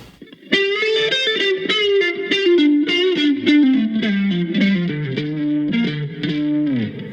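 A distorted electric guitar plays a fast, winding lick from a song, quick notes sliding downward, loud and close with a touch of effect, no voices.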